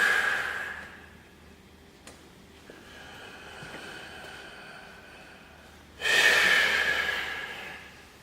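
A person breathes out deeply and slowly in a breathing exercise. One long exhale starts the clip, and after a quieter stretch a second strong, close exhale follows near the end.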